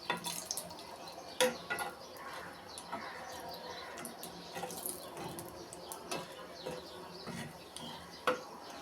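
Dried red chillies fry in oil, a soft, steady crackle and sputter with occasional sharper pops, heard close and fairly quiet, with no talking.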